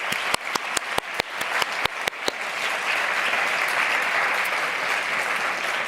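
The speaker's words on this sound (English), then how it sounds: "Let me then call for applause to Osvaldo for the great job." Applause at a plenary meeting of an international environmental conference: a few sharp individual claps start, then a full room's applause builds into steady, sustained clapping.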